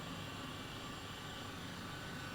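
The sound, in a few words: helicopter flying in video game Microsoft Flight Simulator 2020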